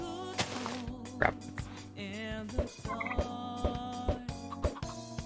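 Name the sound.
turkey gobbling in Minecraft video game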